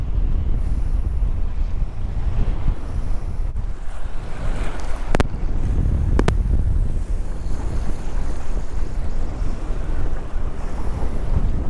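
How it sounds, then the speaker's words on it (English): Strong wind gusting across a beach while fishing from the shore, a loud, constant roar of wind buffeting the microphone with surf behind it, steady for the whole stretch with a couple of sharp clicks. "Man, it is windy today, guys."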